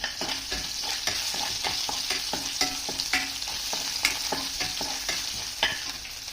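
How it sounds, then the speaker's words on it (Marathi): Crushed garlic drops into hot oil with cumin for homemade masala bhindi, giving a constant close sizzle broken by regular scrapes and knocks of a stirring spoon, with no talking. "त्यानंतर ठिचलेला लसूण आपल्याला त्याच्यात टाकायचा आहे"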